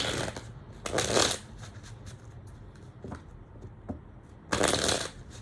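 Playing cards riffle-shuffled in two quick bursts separated by quieter handling and soft card taps, close and clear, no talking.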